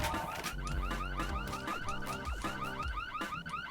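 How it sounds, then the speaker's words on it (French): A car alarm blares in the shooter game Ion Fury, a loud repeating electronic whoop cycling rapidly and continuously with no voices over it. "l'alarme elle va continuer longtemps ou..."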